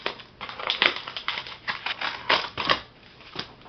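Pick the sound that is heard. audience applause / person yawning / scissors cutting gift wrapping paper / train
scissors cutting gift wrapping paper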